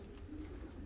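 Racing pigeons cooing softly at a loft during a young-bird competition flight, a low murmuring coo close by that runs on steadily without talk.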